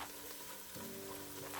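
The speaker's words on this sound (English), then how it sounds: "we're gonna add 2 minced garlic cloves and continue frying for about another minute" Chopped onion and minced garlic frying in a pot, a faint continuous sizzle and crackle at low level, with no voices.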